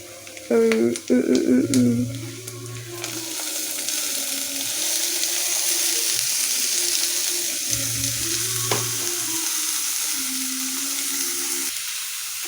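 Carrots and capsicum hit a hot pan and stir-fry with a loud, steady sizzle that runs for about ten seconds after a brief burst of voice-like sounds and clatter at the start.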